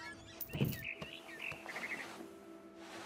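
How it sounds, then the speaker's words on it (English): Barn swallow chirping in the video game What Remains of Edith Finch, a run of short bright tweets and trills near the middle, moderately close over a faint ambient background with no talk. "Then I heard chirping outside my window. It was a barn swallow going back to her nest."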